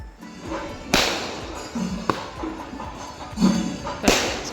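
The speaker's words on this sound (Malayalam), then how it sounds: "അത് നമുക്ക് ഇപ്പോൾ തന്നെ കാണാം കേട്ടോ പടക്കം പൊട്ടിക്കണത്." Sharp cracking firecracker bangs go off at irregular intervals during an Eid celebration, three louder pops standing out over a steady background rumble.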